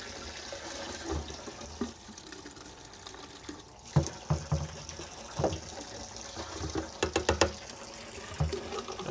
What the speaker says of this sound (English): start adding it while the water's still going in the reservoir